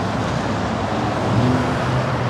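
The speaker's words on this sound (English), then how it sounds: "We've got black SUVs with the lights on, a van, armored NYPD trucks," Police motorcade of black SUVs with lights on, a van and armored NYPD trucks rolling past, a loud, continuous rumble of engines and tires with no break.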